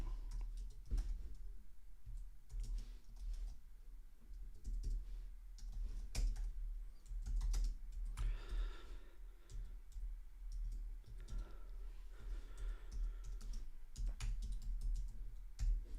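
Typing out a poll question on a computer keyboard, close and quiet: a steady stream of irregular clicks and key taps lasting about sixteen seconds over a low background hum, with no talking.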